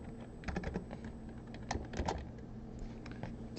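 Typing on a computer keyboard while entering code, a quiet run of soft, uneven key clicks in short bursts with brief pauses between them.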